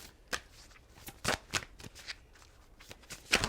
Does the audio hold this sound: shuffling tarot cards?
yes